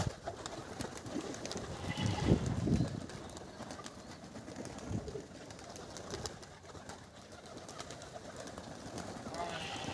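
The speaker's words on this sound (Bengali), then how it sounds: "এই কবুতর এখানে এসে বসে থাকে" Pigeons perched in a residential spot coo softly and faintly, the low murmuring calls mixed with quiet background talk and ambient noise.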